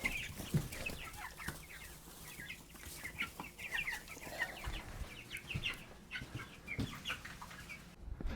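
Chickens cluck and chatter in repeated short bursts, moderately close but fairly quiet, with a few sharp knocks among them and no talk.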